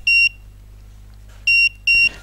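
Three loud electronic alarm beeps from an Arduino Nano battery and AC voltage monitor signalling under-voltage, each a steady high two-tone tone; two short ones close together after a longer pause, with a faint hum underneath.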